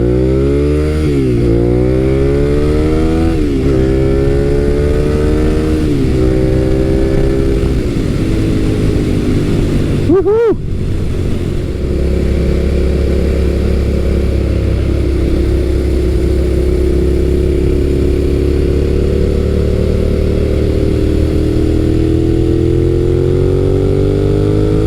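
A Suzuki SV650 motorcycle being ridden on the road gives a loud, close engine note that climbs through the gears, rising in pitch, dropping briefly at each shift, then holding a steady drone under wind noise.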